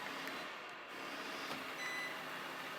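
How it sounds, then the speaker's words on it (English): A Moosoo MT-720 robot vacuum gives a short electronic beep, a faint high tone standing out briefly over a steady background hum and hiss. "it gives you a little beep."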